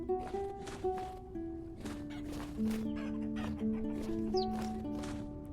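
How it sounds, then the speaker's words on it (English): Rooster crowing amid steady clucking from a flock of chickens in the Vintage Story video game, several birds calling over one another throughout, fairly close and busy, with no talk. "Cock-a-doodle-doo, I hear ya."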